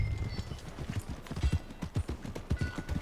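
Horse hooves clip-clop at an easy riding gait in Red Dead Redemption 2, a steady rhythmic series of hollow thuds on the ground with faint tack jingle, close and moderately quiet, with no talk over them.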